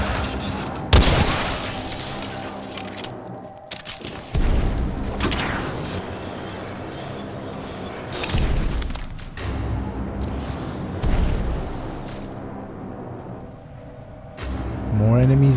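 Gunfire in the shooter game Titanfall 2: repeated loud bursts of weapon fire and booms at irregular intervals, with steady game noise in between and no clear speech.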